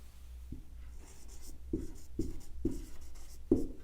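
Pen or chalk writing out a one-line Hindi grammar example by hand, heard as a handful of soft, separate scratching strokes at a steady pace over a low background hum, with no voice.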